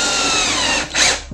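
A power drill whines loudly as it drives a self-drilling screw into the wood of a bird feeder, a short steady burst that dips and then revs again.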